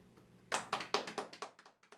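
A small group at the close of a lecture claps quietly, with about nine sharp, uneven claps in quick succession after a brief hush.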